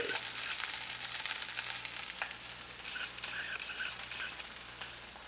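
Eggs sizzling faintly in a pan as they are flipped and cooked, a soft continuous frying hiss with slight crackles, quiet and steady with no voices.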